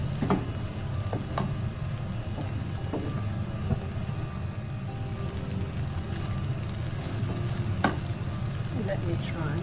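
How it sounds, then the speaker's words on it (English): Fried rice with sesame oil for nasi goreng sizzles steadily in a pan, a constant close crackling hiss broken by occasional clicks of stirring, with no talk over it. "mix well and heat for 3 minutes until the rice heated through and combined"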